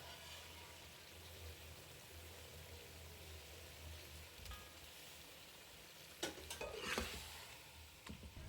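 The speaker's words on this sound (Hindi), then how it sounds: "इसको अच्छी तरह से चिकन को फ्राई कर लें।" Chicken pieces browning in a pan give a very faint, steady sizzle, and a few louder stirring scrapes come near the end.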